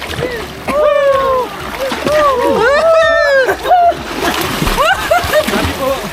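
Water splashes and sloshes close by as people swim in cold water at a blue-water swimming spot, with excited voices shouting and talking over the splashing throughout.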